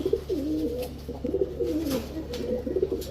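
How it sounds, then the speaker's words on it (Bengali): Black Bibik Budapest cross pigeons coo in repeated soft, rolling calls close by, one bird after another over a low background hum. "এখন দেখাবো ব্ল্যাক বিবিক বুদাপেস্টের ক্রস কবুতর"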